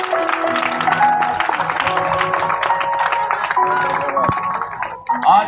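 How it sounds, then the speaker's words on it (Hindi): A village crowd applauds a newly ordained Catholic priest after his first Mass, with steady group clapping mixed with voices and talk throughout, dipping briefly near the end. "ताली तो बजाइए"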